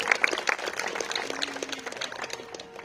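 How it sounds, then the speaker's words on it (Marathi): Audience applause for a singer after a devotional abhang at a live bhakti music concert, a dense steady clatter of many hands lasting a few seconds at moderate level, with no voices over it. "एकदा जोरदार टाळ्या होऊन जाऊ दे आमच्या वैभवचे"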